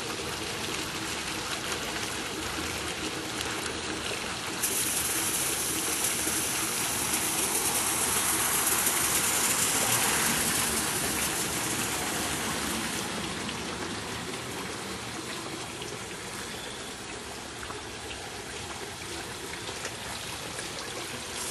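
Water gushing steadily from a lit garden geyser feature among rocks, a continuous splashing rush close by that swells louder for several seconds in the middle before settling back.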